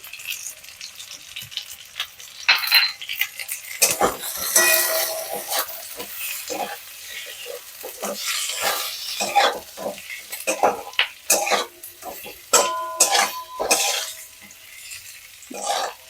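Egg posto with potatoes is stirred and mixed in a pan, with intermittent scraping of a spoon against metal over a light sizzle, the bursts irregular and close, separated by quieter pauses.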